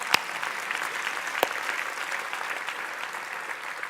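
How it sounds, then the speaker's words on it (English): A church audience applauds with dense, even clapping that holds at a steady level throughout, with one or two sharper claps standing out near the start. "we're going to applaud that"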